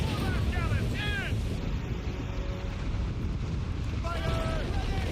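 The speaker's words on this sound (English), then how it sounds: "Gotta make sure all my mortar shots hit." Mortar shots from a sailing warship in the video game Assassin's Creed Rogue boom over continuous roaring wind and sea noise during a naval battle, with shouted crew voices and short tonal calls breaking through now and then.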